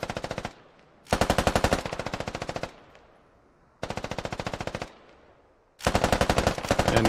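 Automatic gunfire in the tactical shooter game Squad, with British forces firing: loud sustained bursts of rapid shots, each lasting one to two seconds, separated by short pauses with fading echoes, and no talk.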